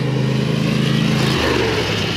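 A small 670cc engine idles and revs gently at low RPM, a steady buzzing drone that drops slightly in pitch partway through, close and continuous.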